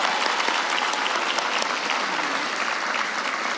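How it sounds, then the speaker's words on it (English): A crowd at a high school commencement gives a sustained round of applause for twin graduates and their parents, thick and even clapping throughout with no talk over it. "Let's give our twins and their parents a round of applause."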